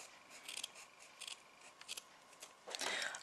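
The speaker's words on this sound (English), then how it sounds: "what I'm quickly going to do is I'm going to get a pair of scissors" Scissors snip through the fabric of a handmade plush toy in several quick, close, crisp cuts with short pauses between, ending in a longer slicing cut; no talking.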